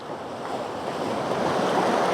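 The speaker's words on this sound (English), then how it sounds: "It's just so nice to sit, listen to the waves" Ocean waves break on the shore at Elgol as a steady, full roar of surf, with some wind noise on the microphone. The sound is close and continuous, with no voices.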